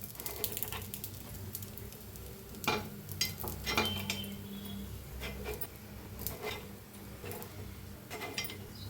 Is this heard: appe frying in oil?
yes